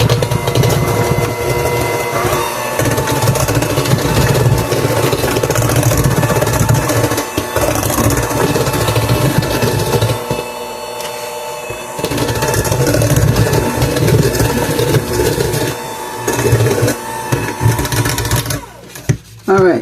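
An electric mixer beats cookie dough in a home kitchen, its motor whirring loudly and steadily for most of the time with brief dips and stops near the end, while a voice speaks over it.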